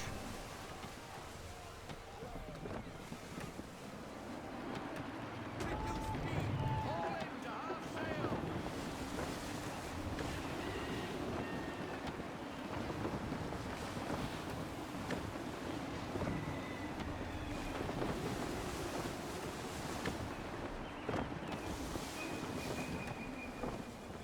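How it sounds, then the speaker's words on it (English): Gusty wind and rolling waves at sea aboard a sailing ship in Assassin's Creed III, a continuous blustery roar with buffeting gusts and surging surf. "Gusty winds can be difficult to manage."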